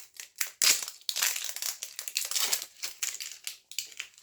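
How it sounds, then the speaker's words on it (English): Crisp crinkling and crackling of cellophane being peeled from a tobacco tin, in irregular bursts of rustles, close and fairly loud, with short quiet gaps between handfuls. "So we have to strap the plastic around, the cellophane."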